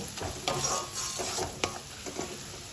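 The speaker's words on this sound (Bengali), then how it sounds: "সবকিছু তেলের সাথে আবার একটু নাড়াচাড়া করে নেব" Kashmiri chilli powder and turmeric powder get stirred through hot oil, a soft, steady sizzle carrying a few scraping strokes of a spoon against the pan.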